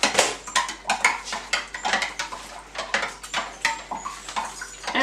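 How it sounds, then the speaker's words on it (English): Almond milk is stirred in a container, producing a rapid run of clinking, tapping spoon strikes against the sides, fairly close and moderately quiet, with no voices. "Just make sure that you stir it, because I can see it's actually separated out."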